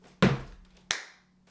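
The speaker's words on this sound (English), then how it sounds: "let's practice the stomp and the clap first" During dance practice on an eight count, a single dull floor stomp is followed about two-thirds of a second later by one crisp handclap, both close and isolated in a quiet room.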